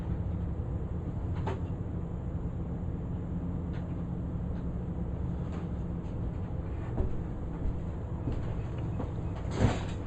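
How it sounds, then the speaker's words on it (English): An Epson Artisan 1430 printer is switched off and back on after a waste ink counter reset, giving a few soft mechanical clicks and shuffles over a steady background hum, with a slightly louder clunk near the end. "I am turning off the printer and turning it back on."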